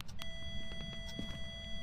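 An EMF reader beeps in the ghost-hunting game Phasmophobia, sounding as steady electronic tones under a low background hum, with no voices over it.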